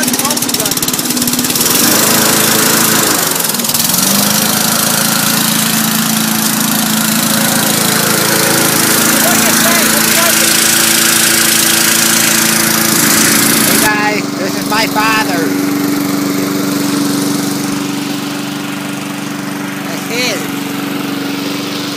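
An old, abandoned lawnmower engine runs steadily and loud close by with a rough, droning tone, its pitch shifting partway through as the throttle changes; people talk over it.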